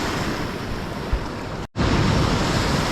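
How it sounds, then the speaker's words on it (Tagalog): Large ocean waves break at the shore on a Philippine fishing spot, a loud, dense rushing wash with wind buffeting the microphone and a brief dropout partway through. "Masyadong malalaki alon dito"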